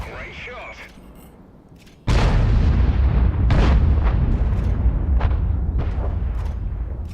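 An FV304 artillery tank gun fires in World of Tanks, one sudden loud blast about two seconds in that rolls into a long, booming decay with faint mechanical clanks, after softer game ambience at the start.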